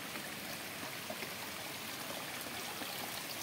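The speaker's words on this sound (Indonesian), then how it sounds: "sudah melewati jalur air, yaitu jalur" River water streams steadily along a hiking trail near Kawah Ratu via Pasir Reungit, Bogor, a continuous broadband rush with no voices and no breaks.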